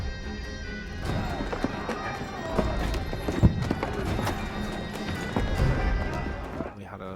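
Large herd of around 140 horses charging through a film battle sequence, a dense, continuous drumming of hooves with occasional whinnies and thuds, a crowd of riders and shouting voices mixed in.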